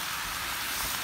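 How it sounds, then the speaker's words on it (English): Steak frying on a Blackstone flat top griddle, a steady, dense hiss that holds evenly throughout at a moderate level, close by and with no voices over it. "Listen to that sizzle."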